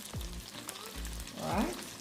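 Coca-Cola splashing into a hot pan of chicken, producing a brief burst of sizzling and bubbling around a few pouring glugs, close and fairly loud.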